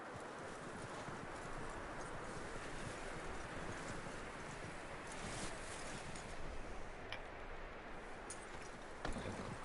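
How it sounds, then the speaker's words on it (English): Horse hooves clip-clopping in the video game Red Dead Redemption 2, a steady rhythmic trot over a soft windy outdoor ambience, continuous and moderately close, without talk. "That looks like a decent horse."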